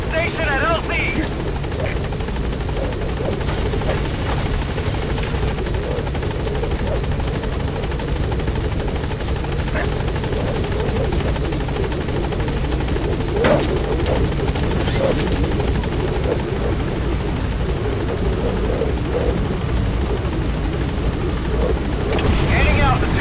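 A helicopter in Metal Gear Solid V: The Phantom Pain on PS5 flies steadily through the whole stretch, its rotor drone loud and unbroken, with game voices over it.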